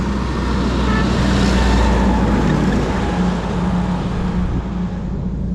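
Heavy logging trucks loaded with huge tree trunks roll past on a jungle road in the Congo, a steady, loud, broadband engine and road roar with no pauses.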